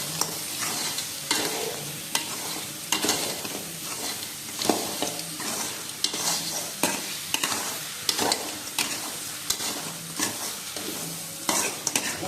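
Crab pieces stirred through a thick masala gravy for crab kurma, with a steady close sizzle and frequent scraping spoon strokes against the pan, no voices.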